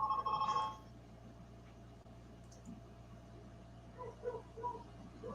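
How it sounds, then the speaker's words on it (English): A telephone bell rings briefly at the start, then fades into a quiet room hum with faint scattered noises. "I got phones ringing"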